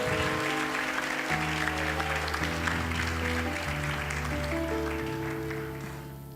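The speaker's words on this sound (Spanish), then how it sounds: "Dele un aplauso al Señor en esta tarde." Audience clapping at a church worship service spreads over sustained organ or keyboard chords, the applause gradually fading toward the end.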